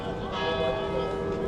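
Westminster Abbey church bells ring out in London, a steady wash of overlapping tones with dense harmonic hum that stays fairly loud throughout, mixed with faint street bustle.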